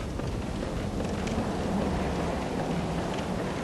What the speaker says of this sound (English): There we go, wind picking up.